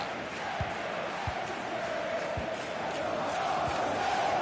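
Stadium crowd noise from a FIFA 23 football match, a steady dense roar of cheering fans pushing the team forward, continuous and moderately loud, with faint low thumps underneath.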